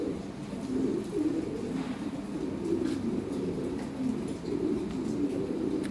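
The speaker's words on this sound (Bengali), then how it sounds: "অনেক কবুতর আছে। ঠিক আছে, এগুলো সব বিক্রির জন্য।" Lahori pigeons at a pigeon farm coo continuously, a steady low murmur of many birds layered close together with no speech.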